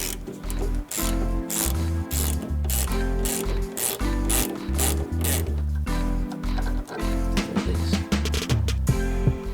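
A ratchet wrench loosening an 8mm nut on the suspension of a Dodge Durango being fitted with an air ride kit clicks in quick, close, repeated runs of rhythmic ratcheting strokes, loud, with no talking.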